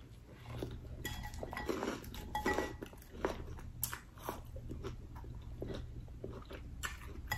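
An Olive Garden salad with onion, olive and pepperoncini is eaten up close, with crisp crunching bites, chewing and occasional fork clinks on a dish, irregular and fairly faint.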